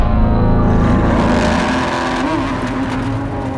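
Lamborghini Aventador SVJ launching hard, its engine screaming loudly and climbing through the revs, close and continuous, with a faint tire squeal as it pulls away.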